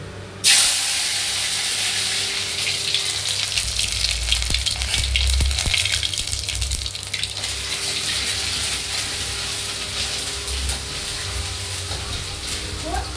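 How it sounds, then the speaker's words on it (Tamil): Ginger garlic paste hits hot oil with cloves and cinnamon, bursting into a loud hiss and then settling into a steady, close sizzle with a few faint clinks. "இப்போ இஞ்சி பூண்டு பேஸ்ட் போட போகிறேன்."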